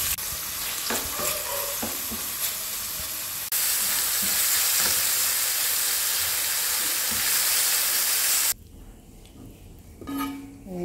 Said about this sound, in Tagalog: igisa muna natin yung minarinate natin chicken na may toyo at magic sarap